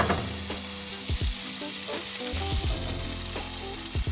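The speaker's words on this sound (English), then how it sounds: "I'm going to shake it up a little bit here so that it's coated with the olive oil." Tofu sizzles steadily in olive oil in a pan, with repeated scraping shakes of the pan breaking through the constant close frying hiss.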